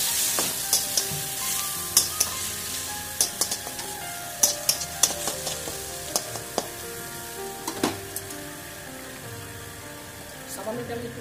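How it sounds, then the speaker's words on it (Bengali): Two prawns fry in a wok, giving a steady sizzle broken by sharp pops and crackles and the clatter of a spatula stirring, all close up with no talk. "আমি তো দুটো চিংড়ি ভেজে নিচ্ছি কড়াই তুলে দিচ্ছি।"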